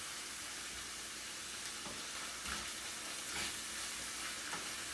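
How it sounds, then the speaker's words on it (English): Ground beef browning in a pot for lasagna: a continuous close sizzle, with soft scraping stirs and tosses rising above it every second or so, and no voices. "Ground beef cooks, pretty quick. So you just toss it around a couple of times."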